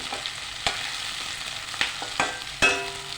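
Green chillies fry in a pan, a soft steady sizzle broken by a few sharp clinks and scrapes of a spoon stirring, close and without talk.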